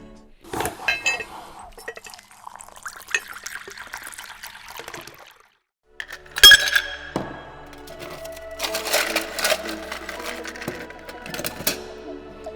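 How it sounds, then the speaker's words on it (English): Ice clinks and rattles in a cocktail shaker as drink ingredients go in, followed by a denser burst of rattling from the shaking, close and moderately loud with a short quiet gap in between. "We are going to add all the ingredients into a shaker full of ice and then shake for at least 10 seconds before serving."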